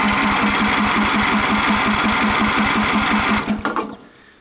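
A small lawn mower engine, primed with starting fluid, cranks and chugs in a rapid, regular rhythm, loud and close, for about three and a half seconds before sputtering and cutting out.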